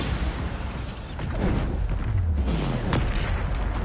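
A Bombarda spell detonates in a Hogwarts video game, a loud rumbling blast with crackling debris and rolling low booms sustained throughout, no voices over it.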